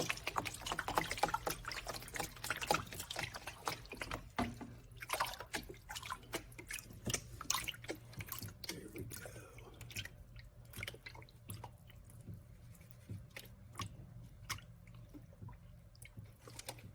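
Water sloshing and dripping in a gold pan as leftover material is re-panned for gold, with splashes and trickles that are busier at first and then settle into sparse drips and swirls.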